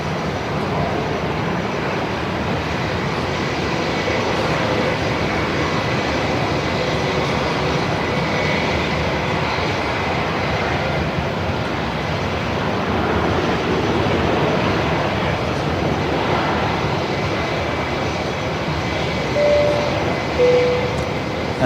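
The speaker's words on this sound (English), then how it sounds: "So the Dreamliner heading back to Singapore. That's just pushing back." A Boeing 787 Dreamliner bound for Singapore pushes back at Melbourne Airport, with a steady, distant jet engine roar filling the whole stretch as an even, unbroken wash of noise.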